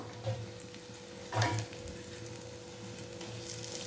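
Urad dal vadas fry in hot oil, a soft steady sizzle close by, with a brief scraping clatter and bubbling burst as they are turned with a slotted spoon, plus a light tap earlier.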